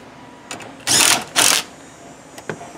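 Screws being snugged down on the passenger side of a Chevrolet Silverado/Sierra center console lid: a few short mechanical bursts, two louder buzzing runs like a small driver, with faint clicks between, close up and without talk.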